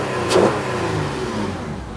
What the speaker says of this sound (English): And now I'll give it a rev.